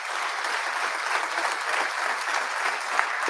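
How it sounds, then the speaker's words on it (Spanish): Audience applause for three presenters at a talk, a steady dense patter of clapping sustained throughout at moderate volume with no voices on top. "pido un fuerte aplauso a los tres expositores"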